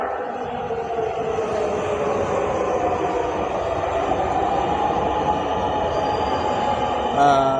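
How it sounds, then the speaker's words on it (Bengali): Dhaka metro rail train pulls into Shahbagh station with a sustained, loud electric rumble and whine that builds slightly toward the end, over the ambient noise of the platform. "আপনারা দেখতে পাচ্ছেন মেট্রো রেল চলে আসছে"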